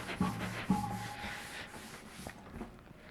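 Writing being rubbed out produces a soft, steady scrubbing in a quiet room, with a couple of faint knocks early on and no talking.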